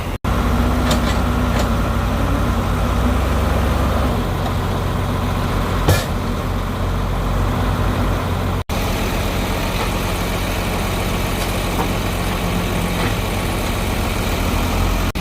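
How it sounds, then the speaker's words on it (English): A loader scoops sod and dumps it into a trailer, its engine a loud, steady low drone throughout, broken by a few sharp clunks. "So I think he's gonna scoop some up and put it in the trailer here."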